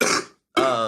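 Two quick, harsh bursts of a smoker's throat clearing, close and loud, separated by a short silence.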